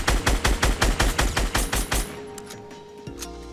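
Rapid automatic gunfire from Fortnite, a fast rhythmic burst of about a dozen loud shots over two seconds, followed by fading echoes and a quieter late shot.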